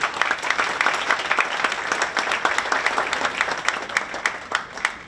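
An audience at an evening state of the district address claps in a dense, steady round of applause, with many individual claps audible throughout and no talking over it.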